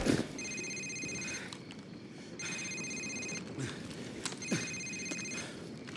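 A mobile phone rings in the Call of Duty 4 video game, three evenly spaced electronic ring bursts over a dense background of ambient noise, with brief soft clicks.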